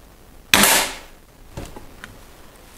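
A single sharp crack from a Weihrauch HW 30 S air rifle stands out clearly at close range, followed by quieter clicks and faint handling noises.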